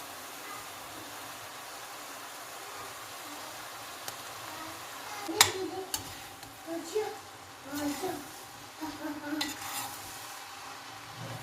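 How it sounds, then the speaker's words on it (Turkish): Meat and onions sizzle in a pan while a utensil stirs and scrapes through them, with a sharp clatter midway and a voice talking over the cooking. "Kavurmamızı daha önceden doğramıştım. Ve şimdi onu da ekliyorum."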